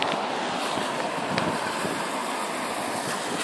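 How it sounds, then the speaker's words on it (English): Gusty wind from a tropical storm buffets the microphone outdoors in rainy New York City, a steady loud broadband roar with slight surges throughout. "Here comes these gust winds."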